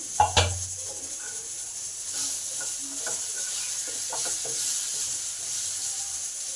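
Potatoes fry in a covered pan for a fish curry with cauliflower, giving a soft steady sizzle with a couple of louder clanks of stirring near the start.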